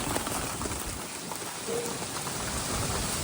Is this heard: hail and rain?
yes